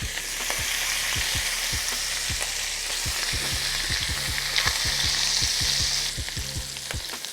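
Corn frying in bacon grease in a pot, a continuous hissing sizzle with frequent sharp pops and crackles spread through it, close and fairly loud.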